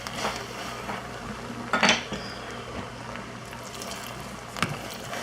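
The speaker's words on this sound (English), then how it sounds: "Gradually add the remaining pasta water." Pasta water poured into a pan of chicken and tomato bolognese with melting butter, a soft wet wash broken by a few clanks of a utensil against the pan, close, with no talking.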